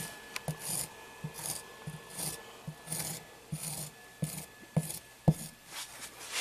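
Repeated soft scraping strokes smooth the surface of a brick relief sculpture, a close, quiet rasping rhythm of short rubs with occasional small taps.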